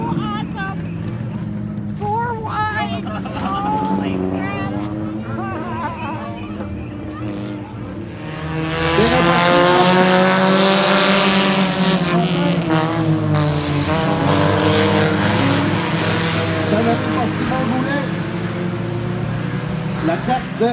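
Stock cars race around a track at an outdoor event, a dense roar of several engines that surges louder as the pack passes, under continuous excited French commentary.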